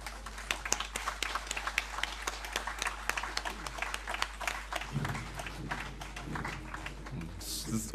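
An audience claps for a vocal group after a Carinthian folk song, with sharp, dense clapping throughout that thins toward the end under some voices and a steady low hum.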